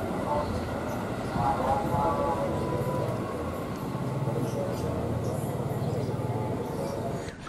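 A KRL commuter train rolls into Taman Kota station with a steady, loud rumble of wheels and carriages that stays continuous throughout, and a brief squeal-like tone rises partway through.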